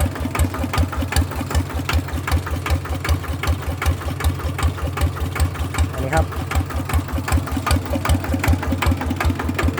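A Kubota RT100 small diesel engine idles with a steady, rapid knocking rhythm, close and fairly loud, running continuously throughout.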